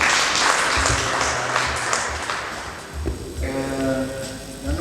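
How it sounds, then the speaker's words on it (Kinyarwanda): Wedding guests at a church ceremony applaud in a dense burst of clapping that thins out after a few seconds as tonal music and faint voices take over. "Komera Imana amashyi kandi dushimire."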